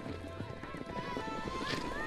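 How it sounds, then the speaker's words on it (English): Horses rounded up by children on the Mongolian steppe clip-clop with a rapid, irregular patter of hooves, faint and partly under outdoor background noise. "Outside, we watch the kids round up some of their horses."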